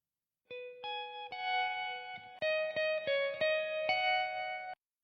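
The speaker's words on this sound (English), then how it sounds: "It just has a little reverb and that's it." A clean electric guitar picks out a looping melodic phrase, single notes ringing with a touch of reverb, played alone at moderate volume.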